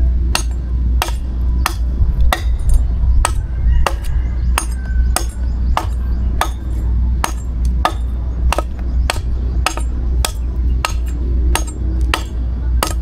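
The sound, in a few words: chopping wood with a bolo (itak) to make a handle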